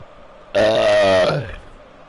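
A single loud, drawn-out burp after drinking, sounding close and lasting about a second over quiet room noise.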